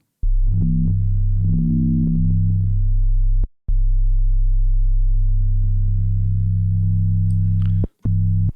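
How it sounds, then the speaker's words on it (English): A deep, sustained synth sub bass drones loudly with a gritty, saturated edge, briefly cutting out twice before resuming, with a few rising overtone wobbles early on. "the saturator is just going to provide a little bit of harmonic overtone to our subline here"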